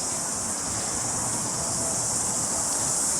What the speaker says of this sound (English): You should be able to hear the chirping of the cicadas under this tree as well.